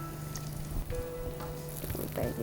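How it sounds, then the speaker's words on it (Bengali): Chicken rice balls fry in soybean oil with a steady close sizzle and crackle, a faint tonal hum running beneath and no talk. "এবার এই যে সয়াবিন তেল দিয়ে ভাজছি আমরা"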